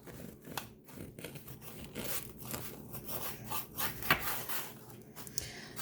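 A knife saws through a loaf of bread while slicing it for garlic bread, giving a steady run of close, soft rasping and crumbly scraping strokes with a few sharper cuts along the way.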